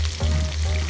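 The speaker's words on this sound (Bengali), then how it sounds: "এই যে পেঁয়াজ দিতেছি" Sliced onions hitting hot oil in a pan, a brief, close, steady sizzle with a low hum underneath and no talking.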